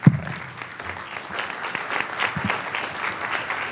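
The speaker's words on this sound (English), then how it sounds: "Give him a round of applause." Conference audience clapping for a plenary speaker on consciousness and free will, an even, sustained wash of applause from a large hall, continuing steadily throughout.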